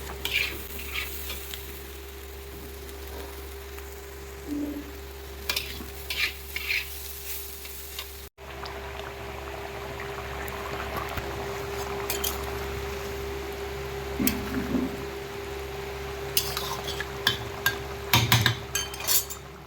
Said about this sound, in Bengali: দাঁড়াও দেখি এদিকে ভাজাটা নাড়ায়